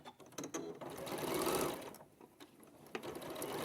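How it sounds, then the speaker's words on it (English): Sewing machine running a quarter-inch seam down the edge of a quilt piece, a close whirring stitch burst that speeds up, stops, and gives a few short clicks. "we're going to do a 1/4 inch seam down that"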